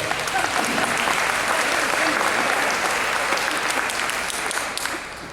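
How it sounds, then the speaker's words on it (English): An audience at an education conference on caregiver self-care claps together in a thick, continuous wash of applause that holds steady and tapers slightly at the close. "give yourself a round of applause for making it through this day."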